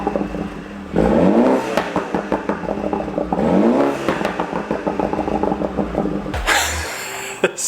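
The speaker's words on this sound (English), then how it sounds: "we're gonna do some exhaust revs in the garage for you guys so you can hear them" BMW F30 tuned exhaust revved in a garage, two sharp throttle blips climbing high and falling away into crackling burbles and pops, loud and close, ending in a final burst, with no talking.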